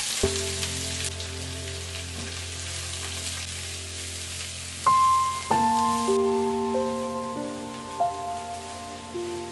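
Three large sliced onions frying in a pan for a Goan pork amsol, a continuous close sizzle and crackle under steady hiss, with some stray tonal beeps or hum layered over it midway.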